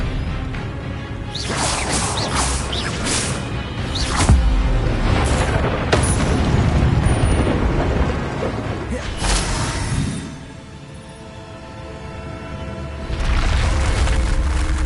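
Incendio and Expelliarmus spells cast in a Harry Potter video game on PS4, a string of loud booming blasts and whooshing bursts over a rumbling background, easing briefly before another surge.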